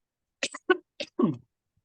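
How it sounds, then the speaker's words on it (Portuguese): A short burst of harsh coughs from a hoarse speaker at a poetry reading, three or four in quick succession, close and fairly loud, followed by silence. "desculpa, eu estou com tosse de professor"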